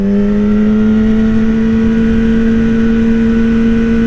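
A Yamaha R6 sport bike engine holds a steady droning tone as the rider eases off the throttle, loud and close with a smooth sustained hum and no clear rev change or talk.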